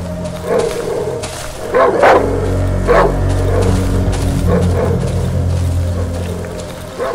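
Barks from a dog in the horror game Darkwoods come at uneven intervals, roughly five sharp outbursts at moderate distance over a low, rumbling ambient drone.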